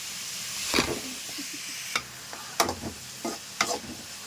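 Chopped onions sauté in a pan for a home-style chicken gravy, giving a soft steady sizzle broken by several sharp scraping stirs of a spoon against the metal, close and moderately quiet, with no talking.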